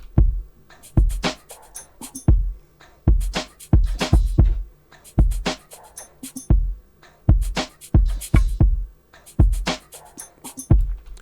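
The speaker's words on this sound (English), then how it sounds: "And I also have this right here, this drum loop." Dry R&B drum loop with no effects, punchy kicks and crisp snares and hats repeating in a steady groove, loud and alone.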